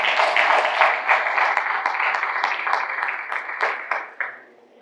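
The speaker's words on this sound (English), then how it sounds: "please a round of applause for yourselves as well" Leadership forum audience applauding themselves at a conference session, dense steady clapping from a room full of people that holds at full volume, then thins to a few last claps and fades out.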